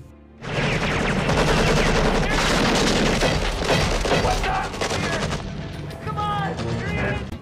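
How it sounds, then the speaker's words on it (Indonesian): Sustained gunfire exchange from a sniper war film, a dense loud barrage of shots and blasts running throughout, with faint shouting voices mixed in toward the end. "Miller pun segera mengambil senapannya sampai akhirnya terjadilah baku tembak"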